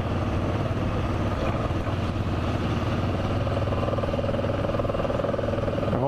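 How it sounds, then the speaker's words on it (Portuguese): A Honda Transalp motorcycle rides over rough, uneven trail terrain, its engine droning steadily and loudly up close throughout, with continuous wind and road noise and no break in the sound. "E tá indo muito bem a moto."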